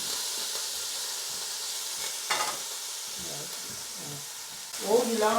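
Ginger and garlic fry in a pan over high gas with a steady loud sizzle and hiss, broken by occasional stirring scrapes and a brief voice near the end.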